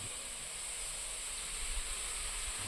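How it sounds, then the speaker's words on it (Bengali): Malpua batter frying in hot oil for a Janmashtami celebration gives a steady, faint hiss that stays even from start to finish, with no voices over it. "এবার ভাজা হবে মালপোয়া।"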